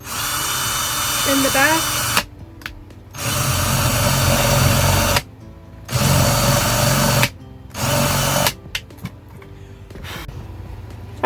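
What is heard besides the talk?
drilling a small hole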